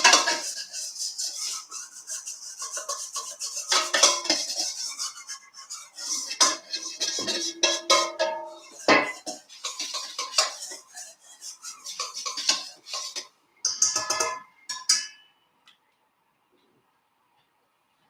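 A whisk scrapes and clatters against a bowl while garlic sauce for tofu and broccoli is mixed, close up in a home kitchen, in bursts of quick rhythmic strokes with short pauses, ending in silence.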